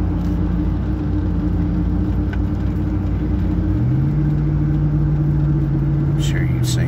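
A car drives along a road with a steady engine rumble and road noise inside the cabin, and the engine note rises partway through. Someone talks over the drone.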